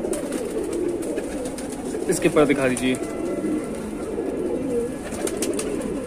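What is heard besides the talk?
pigeons cooing and flying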